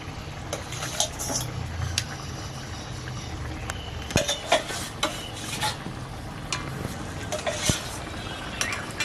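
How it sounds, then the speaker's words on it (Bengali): Fried eggplant pieces go into simmering mustard gravy in a pan for a hilsa dish, with soft stirring, light sizzling and several sharp utensil taps against the pan, close and moderately quiet. "এবার আমি এই ভাজা বেগুনগুলো আমি ওর মধ্যে তুলে দিচ্ছি"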